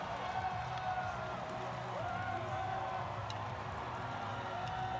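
A packed Korean crowd fills the arena at a PyeongChang 2018 Paralympic ice hockey game between Korea and the Czech Republic, a dense, steady roar of cheering with whoops and clapping and a wavering horn-like tone riding above it throughout.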